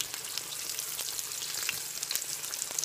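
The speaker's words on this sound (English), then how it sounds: "let them fry for just about like a minute, maybe a minute and a half" Food frying in a pan during home cooking: a faint, steady sizzle with scattered small pops and crackles, heard alone without voices.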